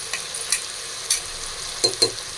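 Onion and garlic frying with chicken in a hot pan, a steady sizzle with several sharp stirring scrapes, close and alone without any voice.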